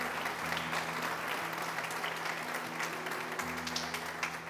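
A church congregation applauds during a sermon: dense, steady clapping fills the space throughout, with a low sustained hum underneath.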